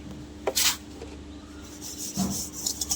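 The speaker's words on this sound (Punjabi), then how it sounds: "ਤੇ ਆਪਾਂ ਇਹਨੂੰ ਹੁਣ ਰਗੜਾਂਗੇ ਜੀ ਚੰਗੀ ਤਰ੍ਹਾਂ ਇੱਕ ਵਾਰੀ" A burnt iron wok being scrubbed with amchur powder gives a few close, gritty rubbing strokes, short rasping scrapes spaced apart over quiet background hum, with no voices.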